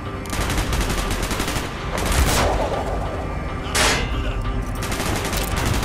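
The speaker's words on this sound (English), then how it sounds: "Gunfire's drawing attention" Dense bursts of rapid gunfire with heavy booming hits in Call of Duty: Black Ops, loud and continuous throughout, like a chaotic firefight.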